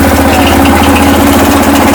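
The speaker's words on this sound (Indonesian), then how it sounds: "Sekarang kita coba untuk menyalakan mesin." Petrol-powered air compressor pump engine running after starting, a loud close chugging drone with steady rapid pulsing and mechanical vibration, heard alone.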